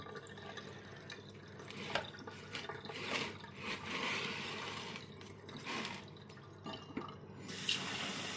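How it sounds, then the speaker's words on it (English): Water poured into a plant pot filled with 100% orchid bark drains through and trickles and splashes out the bottom, with soft uneven dripping and gurgling heard close and faint. "And the water will just flood out the bottom."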